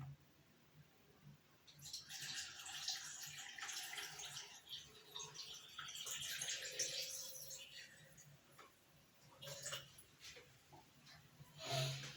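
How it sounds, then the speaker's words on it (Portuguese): Water is poured from a container onto a small soil model with expanded clay, a faint, close splashing and trickling pour lasting several seconds, with a quieter pause partway through and a final splash. "Então vamos jogar água aqui."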